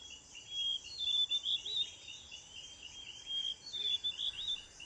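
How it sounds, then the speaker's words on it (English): Forest birds in Ghana's Kakum rainforest call with faint, high repeated chirping phrases that come in two bursts over a quiet bed of insect hum. "Finding these birds is often through their melodious songs."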